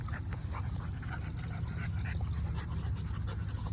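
A three-month-old puppy pants quickly and steadily up close, with soft whimpers and small yips over low rumbling background noise.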